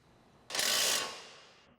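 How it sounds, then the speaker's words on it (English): Ratchet with a 19mm socket running on the stabilizer link nut on a Volkswagen Golf R coilover, a single quick burst of rapid clicking, close and alone. "Use a 19mm socket to run on the nut"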